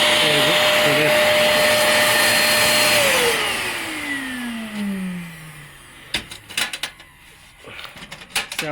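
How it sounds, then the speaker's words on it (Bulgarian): A vacuum cleaner sucks a string through a buried 25 m HDPE pipe, a loud steady roar that winds down in a falling whine after about three seconds, followed by clicks and handling knocks. "И ето тук сега съм сложил една прахосмокачка."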